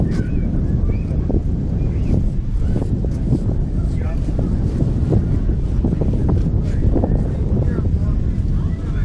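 Wind blowing outdoors by the water, a constant low rumbling buffet across the microphone, with people talking underneath throughout.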